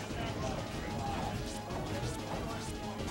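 Forward smash attacks landing in a Project M match between Marth and Charizard, heard as repeated impact hits over continuous game sound and background commentary.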